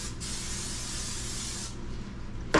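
Cooking spray hisses from a can onto a 9x13 baking pan in one steady burst of about one and a half seconds, close and fairly quiet, followed by a short clunk.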